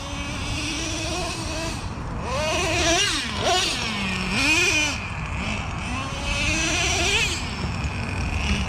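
Nitro engine of a Traxxas Revo 3.3 RC monster truck revving up and down in repeated high-pitched, buzzing swells, loud and close, with no talking over it.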